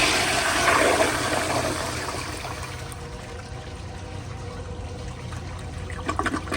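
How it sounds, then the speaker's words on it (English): A 1980s American Standard Afwall wall-mounted toilet flushes with a loud rush of water that gradually fades into a steady trickle, then picks up slightly near the end. "Okay, here's another flush."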